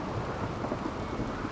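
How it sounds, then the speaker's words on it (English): Rain and thunder from a stormy spell in the survival game Sea Ice, a dense steady wash of rainfall with a low rumbling backdrop, constant and fairly loud. "This Rainy Thunderstorm is going to be coming to an end very soon."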